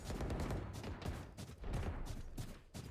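Video game gunfire during headshots, a rapid burst of sharp, faint shots repeating over a few seconds.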